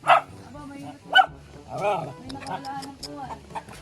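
Several dogs bark in short loud bursts, with yips and whimpers between them, close by and overlapping excited human voices.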